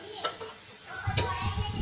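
Quiet sizzle of food frying in a pan, pressed down while frying, with a few soft clinks and stirring noises, growing slightly louder toward the end.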